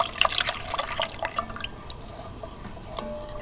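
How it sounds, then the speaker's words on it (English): Hot water and vegetable stock pour into a pot of coconut-milk vegetable curry, a steady splashing, liquid pouring sound close by, heaviest at first and then easing into a softer trickle, with no talking. "And now some vegetable stock, and that's to say hot water and vegetable stock granules."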